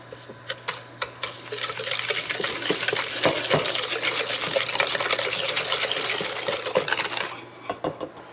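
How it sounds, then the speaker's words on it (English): A whisk beats sugar and stabilizers into four egg yolks in a bowl for vanilla ice cream base, producing rapid, close, continuous metallic clinking and scraping for several seconds before slowing to a few final taps. "we're just going to whisk this until it turns light yellow for probably about 2 minutes"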